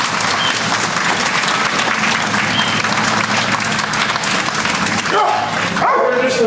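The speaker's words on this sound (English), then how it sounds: "Big round of applause" Loud applause from a crowd at an animal emergency center event, with dogs barking excitedly through it and a whimper near the end.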